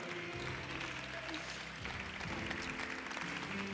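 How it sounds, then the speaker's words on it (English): Applause from a church congregation, a continuous dense patter of clapping over a murmur of background noise, steady throughout. "Keep clapping."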